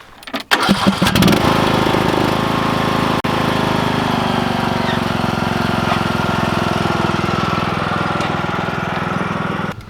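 A lawn tractor engine cranks and sputters, then catches and runs at a steady, loud, rattling idle that continues without a break.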